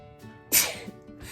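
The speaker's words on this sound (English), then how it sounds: "that sneeze was coming too quick" A single sharp sneeze bursts out close to the microphone, a quick forceful burst with a brief trailing exhale, at the end of a crafting session with a small fluffy koala figure.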